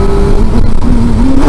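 A motorcycle engine revs steadily as the throttle is cracked open, the tone climbing slightly, loud and close with no talk.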